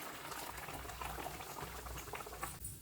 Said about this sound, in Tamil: இப்போ இந்த தேங்காய் பேஸ்ட்டோடையே கொஞ்சமாக தண்ணி ஆட் பண்ணிக்கிறேன்